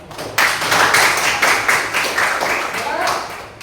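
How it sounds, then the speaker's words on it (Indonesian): A class bursts into applause, a sudden dense round of clapping from many hands that starts abruptly, holds steady, then gradually thins out. "Kasih aplaus."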